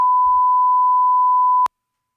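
A single steady censor beep, a clean pure tone lasting about a second and a half and then cutting off abruptly, loud and alone.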